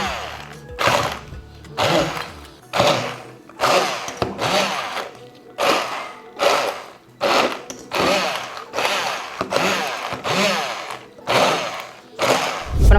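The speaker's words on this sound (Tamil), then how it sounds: "இப்போ வந்து நம்ம வெங்காயம், தக்காளி நல்லா பிளெண்ட் பண்ணிக்கலாம்" Kitchen mixer grinder blending onion and tomato, run in repeated short bursts of loud, whirring grinding, each followed by a brief pause, about a dozen pulses in a row.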